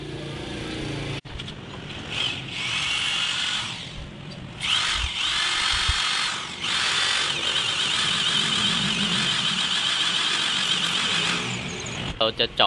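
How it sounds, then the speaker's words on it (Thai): Power drill boring through a snapped exhaust manifold stud in an engine cylinder head, a steady high whining grind that runs almost continuously with a few brief pauses, close and loud, ending in short bursts. "เราจะเจาะให้ทะลุไปเลยนะครับ"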